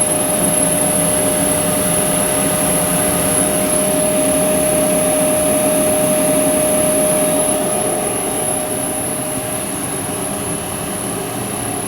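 A DC series motor runs steadily under increasing shaft load during a load test, giving a continuous close hum with a steady tonal whine, loud and unbroken with no talk.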